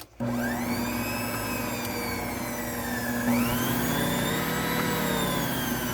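An electric stand mixer churns dough made from freshly milled wheat, giving a loud, steady motor whine with a high tonal hum that shifts pitch slightly midway and runs continuously without a break.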